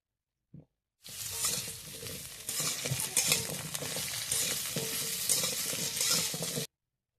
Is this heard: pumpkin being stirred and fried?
yes